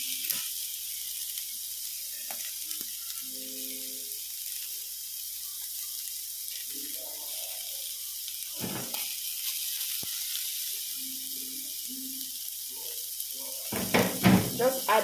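Indomie instant noodles stir-frying in a pan as noodle spice goes in, a steady bright sizzle throughout with a few faint clinks and short murmured sounds, then louder scraping and stirring at the end.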